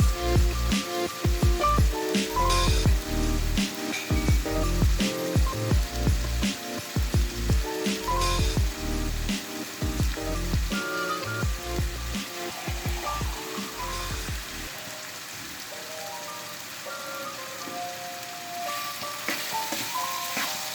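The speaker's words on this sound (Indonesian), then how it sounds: "Kita aduk-aduk terus ya, supaya bumbunya meresap ke dalam daging." Seasoned beef for Tegal-style daging bumbu age sizzles steadily in a pan while a utensil stirs it with repeated scraping clatters. The frying stays loud and continuous, and the stirring stops near the end.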